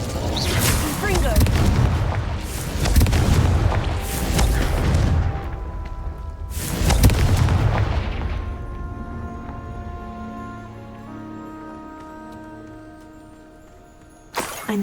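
Confringo blasting spell going off in the Hogwarts Legacy video game: several loud booming bursts in quick succession, then a lingering ringing musical tail that fades out before another sharp hit at the end.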